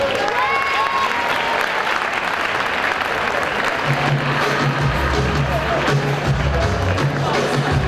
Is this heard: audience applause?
yes